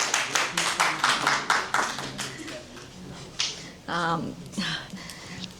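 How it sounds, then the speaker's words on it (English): A small group gives applause for honoree Lisa Gray on a podcast. Sparse, quick handclaps patter at first, then thin out while a voice talks over them. "Round of applause for Lisa Gray, guys."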